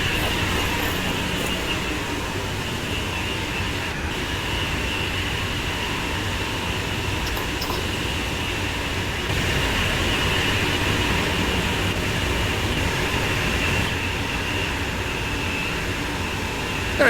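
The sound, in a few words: passenger train running in video game Train Sim World 6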